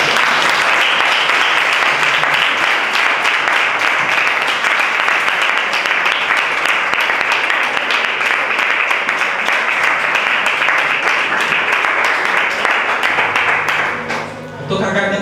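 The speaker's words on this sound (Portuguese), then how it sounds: "Você pode aplaudir a Deus?" A church congregation applauds loudly and continuously for about fourteen seconds, a dense sustained roar of clapping that cuts off abruptly near the end.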